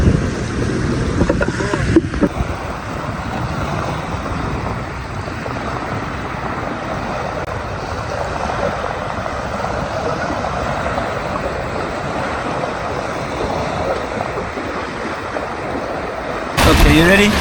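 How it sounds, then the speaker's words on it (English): Jet ski riding on the ocean off a Zanzibar beach, a steady engine drone mixed with wind buffeting and splashing water running for the whole stretch, loud and close, with brief voices in the background. "We'll be riding the jet ski here."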